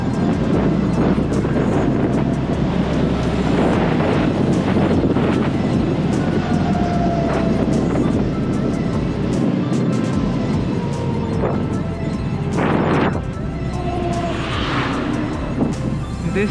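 An electric vehicle accelerates hard at full throttle in hyper mode, its drive a steady, loud roar buffeted by heavy wind noise throughout, with faint rising whine tones and occasional thumps over the road.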